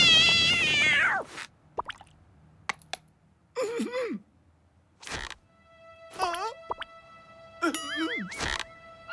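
A cartoon cat meows several times in an animated French children's show, short rising and falling cries spaced between clicks, pops and brief silences, with an opening vocal flourish.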